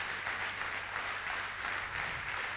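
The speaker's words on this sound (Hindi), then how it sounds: "एक जोरदार ताली जिन्होंने नहीं बोला उनके लिए होनी चाहिए" Steady audience applause fills the space, a continuous dense wash of many hands clapping at moderate distance, even in level throughout with no voices on top.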